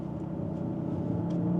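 Synthetic engine sound piped into a 2024 Genesis GV60 Performance AWD electric car, a low, steady hum and whir that rises slightly, quiet and continuous with no talking.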